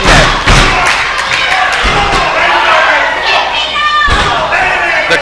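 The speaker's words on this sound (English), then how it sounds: "The crowd here getting behind Jacob Ashworth. I thought the walls were going to come crashing down here." Wrestling crowd at an Anarchy Wrestling show roaring and cheering loudly inside the arena, with heavy thuds and slams from the ring cutting through a continuous dense wall of crowd noise.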